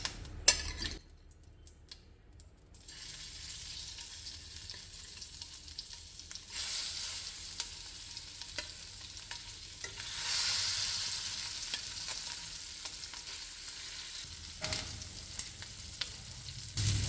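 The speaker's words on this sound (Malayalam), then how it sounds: "ഇനി അതിലേക്ക് കൂന്തലിട്ടിട്ട് വറുത്തെടുക്കാം." Squid frying in coconut oil with curry leaves in a pan over low heat, a steady, close sizzle and crackle with stirring clinks, growing louder in bursts, no talk.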